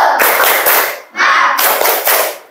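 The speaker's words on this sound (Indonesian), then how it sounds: "Ya, dengan yelnya tepuk semangat ya." A group clapping a rhythmic 'tepuk semangat' clap chant at a school teacher-training session, loud close bursts of hand claps in a patterned rhythm broken by short pauses.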